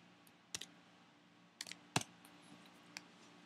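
A computer keyboard being typed on in short, sparse bursts: a few quiet, crisp clicks spread across the stretch over a faint steady room hum, with no talking.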